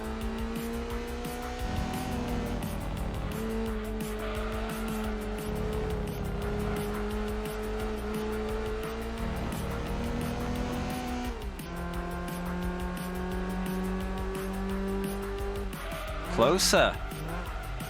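Race car engine from the Gran Turismo 2 racing game on PS1, a steady droning whine with gear shifts around the middle, heard continuously under a player's occasional talk, with a brief sharp burst near the end.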